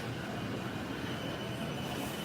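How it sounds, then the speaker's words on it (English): Trains rumbling over elevated Yamanote Line tracks overhead in Tokyo's Akihabara area, a steady heavy roar with faint wheel squeal, loud and continuous. "The trains are cruising above us."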